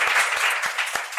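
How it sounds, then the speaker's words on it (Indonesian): A small studio audience on a podcast set claps for Marco, a national science olympiad champion, a brief burst of close, moderately loud applause with individual hand claps standing out. "Tepuk tangan untuk Marco"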